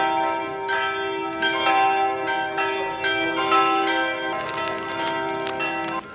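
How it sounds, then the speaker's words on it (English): Church bells ring out in Cebu, several resonant strikes in a slow sequence with long ringing overtones, fairly close and clear over light outdoor ambience. "in perfect timing, the bells ring from church"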